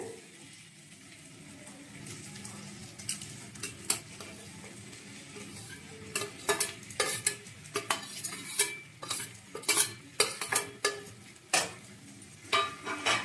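A spoon stirs fried prawns into an elephant foot yam curry in a pot, giving repeated close scraping and clinking strikes against the metal that grow busier and louder partway through.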